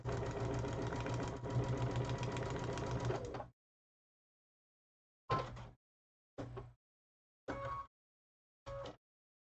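A sewing machine stitches a quilt seam, with one steady run of about three and a half seconds followed by four short separate bursts, close and fairly quiet with no talking.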